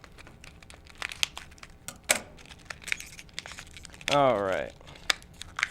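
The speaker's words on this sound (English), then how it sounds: "Use scissors. It's the fastest way. These plastic things are always tough getting into." Scissors cut open stiff plastic laser pointer packaging in a series of sharp crinkles, snips and clicks, close and moderately quiet, with a brief spoken phrase partway through.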